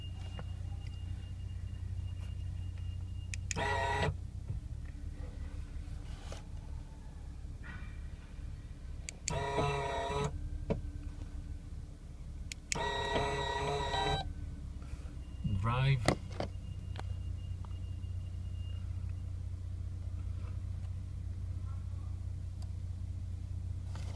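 A Chrysler Voyager gear selector actuator, installed alone without ignition or wiring and driven through a CAN-bus gateway, gives four brief whirring motor bursts over a steady low hum.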